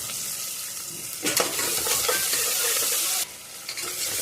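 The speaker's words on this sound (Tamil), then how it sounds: "வெங்காயம் நல்லா வதங்கட்டும்." Onions sautéing in hot oil in a pan for a meat gravy, a loud continuous sizzle with stirring scrapes from a utensil, no talking.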